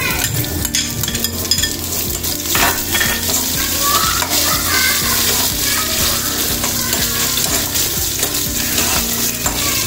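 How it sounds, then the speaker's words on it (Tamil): Dried red chilies and thin-sliced half onion frying in hot oil for a tempering, a steady loud sizzle with stirring scrapes throughout, alone with no talk. "காஞ்ச மிளகா பொரிஞ்சிட்டு ஒரு அரை வெங்காயம் நீல வாக்கில் கட் பண்ணி அதையும் இதுக்கு சேர்த்துருங்க தாளிக்கிறதுக்கு."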